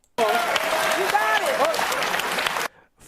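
An audience breaks into loud, sustained applause with some cheering for a couple of seconds before it stops abruptly, with a voice or reaction audible over the clapping.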